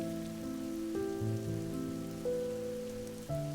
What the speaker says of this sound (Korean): 지금처럼 갑자기 소나기가 엄청 내릴 때였다